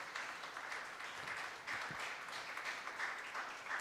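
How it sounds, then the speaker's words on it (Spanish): A church congregation at a Spanish-language service applauds together, a steady wash of distant clapping that holds evenly throughout without voices. "Dele un aplauso pues al Señor."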